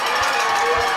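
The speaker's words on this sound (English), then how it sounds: "you can already hear the Sequoia crowd starting to get up" A home crowd for Sequoia cheers at the start of a football game, a steady, broad roar filling the stands with dense, continuous crowd noise throughout.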